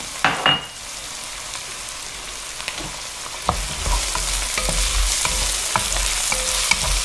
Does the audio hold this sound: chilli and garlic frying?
yes